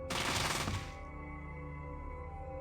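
A 10mm SMG in the video game Fallout 1 fires one loud, rapid burst lasting under a second, then cuts off into a steady tonal hum, with no voices.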